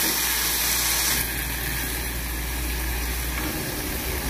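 A potato leaf mixture with meat seasoning sizzles steadily in a pan, a loud, continuous frying hiss that holds throughout and eases slightly partway through.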